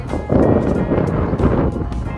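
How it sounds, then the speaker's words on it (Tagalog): Strong wind buffeting an outdoor microphone at Victoria Harbour in Hong Kong, a steady loud rumbling roar with gusty surges that runs throughout the moment. "Lakas ng hangin."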